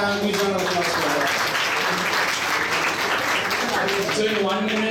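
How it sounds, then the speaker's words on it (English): Steady applause from a crowd, continuous clapping filling the whole stretch with a dense, even texture. "please give a round of applause for that"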